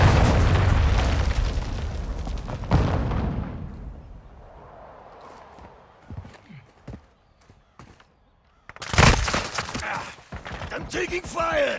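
A cruise missile strike in Call of Duty: a heavy booming blast with rumbling debris opens loud, then the sound thins out to scattered thuds before a second sharp, close explosion bursts out and its rumble lingers.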